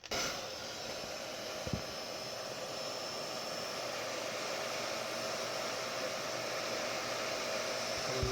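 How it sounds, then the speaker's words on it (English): A hair dryer on low heat runs steadily, warming an old sticker on a PlayStation 2 console; a constant close airy whoosh with a faint tonal whine, continuous throughout and alone. "So I can heat it with a hairdryer."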